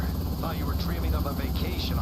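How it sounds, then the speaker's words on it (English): Helicopter rotor chopping steadily in the distance over a ruined New York city in the zombie border game Quarantine Zone: The Last Check, a low continuous drone under someone talking. "I hear a helicopter."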